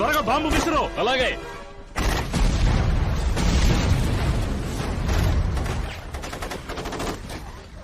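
A bomb blast and bursts of gunfire from a Telugu-dubbed Resident Evil: Apocalypse action scene. A wailing siren-like tone rises and falls at the start, then a loud, dense roar of explosions and shots runs continuously to the end.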